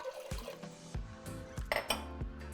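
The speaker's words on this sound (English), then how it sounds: "Into our pot we're going to add 6 cups of water" Water, six cups in all, pours into a cooking pot on the stove, with splashing and clinks of the pot and utensils in a short, uneven sequence.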